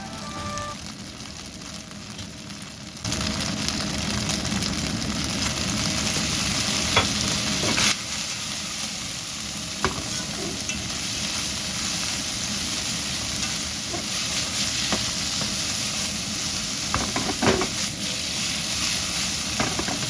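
Steady hiss and sizzle of turnip cake pan-frying, with occasional scraping stir sounds, continuous and close, no voices.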